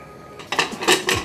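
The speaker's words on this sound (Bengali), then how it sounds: "এখন আমরা ঢাকনাটা ঢেকে দিই" A metal lid goes onto a pressure cooker of khichuri with a few close, sharp clanks and rattles in quick succession after a quiet moment.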